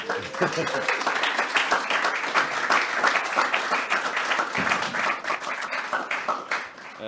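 Audience clapping at a startup demo day in Dublin, a lively round of applause with distinct individual claps and some voices or cheers mixed in, continuing steadily for several seconds.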